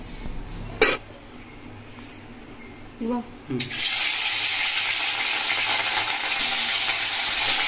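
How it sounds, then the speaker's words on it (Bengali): Bhola fish frying in hot oil in a wok: a few faint knocks, then a loud, steady broadband sizzle fills the rest once the fish goes in. "মাছটা ভাজা আমার কমপ্লিট"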